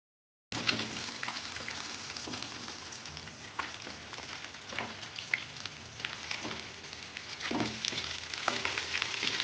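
Pieces of katla fish frying in hot oil in a pan, a dense continuous sizzle with crackling pops and occasional stirring, close and fairly loud throughout after a brief silent start.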